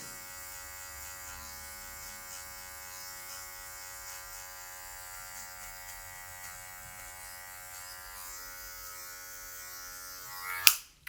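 An electric hair clipper buzzes steadily and close for about ten seconds while trimming hair with the tip of the blade, then is switched off with a short clack.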